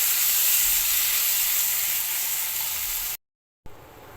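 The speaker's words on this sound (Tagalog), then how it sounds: "medyo lutuin natin ng konti itong ating pork bago natin ilagay ang sunod natin na ingredients" Pork sautés in a pan with a steady, bright sizzle and hiss that runs continuously. The sound cuts out briefly, then resumes.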